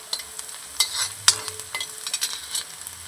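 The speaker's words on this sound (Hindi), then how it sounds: "थोड़ा भून लेंगे कांदा और लहसुन को।" Chopped onion and garlic frying in hot oil with cumin seeds in a pan, a soft steady sizzle with a few light stirring scrapes and clinks, close and fairly quiet.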